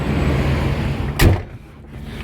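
A Volvo car door shuts once with a single solid thump as people get in, followed by a quieter muffled interior.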